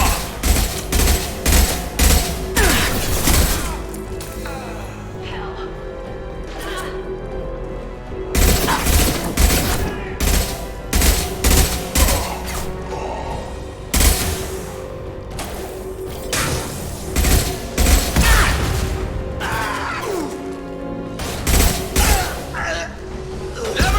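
Rapid rifle gunfire in Mass Effect 2, in repeated loud bursts of closely spaced shots with short pauses, over a steady combat hum.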